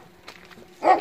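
A dog behind a mesh fence in a village gives a single short, close bark at the end after a moment of quieter sound.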